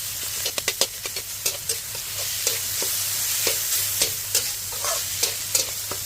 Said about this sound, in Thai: ให้ใส่ดอกแคนาลงไป จากนั้นก็ผัดต่อค่ะ ผัดให้ส่วนผสมเข้ากันค่ะ